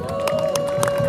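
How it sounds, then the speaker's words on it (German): At a harvest festival cattle drive, a crowd claps and cheers for the harvest crown, dense scattered clapping close by over a steady tonal hum, brief and continuous. "Ein ganz großer Applaus für die Erntekrone."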